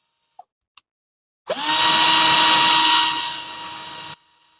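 A power drill spins up a wobbly axle in a loose chuck, whining loudly and steadily for about three seconds before cutting off, after two faint clicks.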